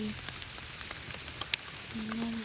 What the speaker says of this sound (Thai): ฝนก็ตกลงมาแล้วค่ะทุกคน